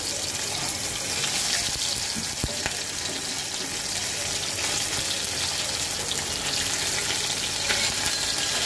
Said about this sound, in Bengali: মাছগুলি আমি সুন্দর করে ভেজে নেব।